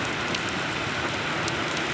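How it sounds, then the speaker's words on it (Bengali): Heavy rain pours steadily with strong stormy wind, a dense unbroken wash of noise with no voices. "প্রচুর বৃষ্টি হচ্ছে, সাথে ঝড়ো হাওয়া প্রচুর পরিমাণ হচ্ছে।"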